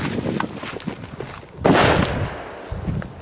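A dull muffled thump from an A1 firecracker going off deep inside buried sand, a single short burst standing out from steady outdoor background noise.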